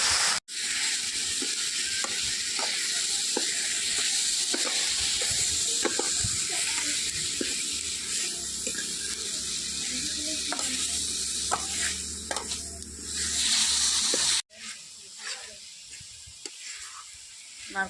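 A coconut and sugar filling with a little water for steamed pithe cooks in a pan with a steady sizzle and hiss while a spoon scrapes and stirs it in repeated strokes, then briefly cuts off and resumes more quietly.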